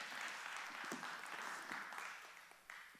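Faint, dense applause from a Spanish-speaking church congregation thanking God for the sermon, a continuous wash of many hands clapping that thins slightly toward the end, with no talk over it.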